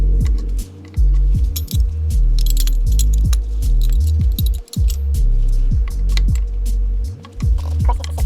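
Metal flare nut wrenches clink and jangle close by while they are gathered for removing a power steering high pressure line on a 5.3 swapped C4 Corvette, with repeated bright clinks over a steady low hum.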